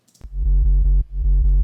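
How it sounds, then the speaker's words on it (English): A deep sub bass line from an EDM/rock remix throbs in loud, sustained low notes with a steady pulsing rhythm and one brief drop-out, played alone with no voices. "And the sub sounds like this."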